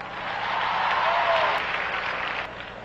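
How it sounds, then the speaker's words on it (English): Audience at a sermon on divorce clapping, a moderate burst of applause that swells and then tapers over a few seconds, with no talk. "Clap loud."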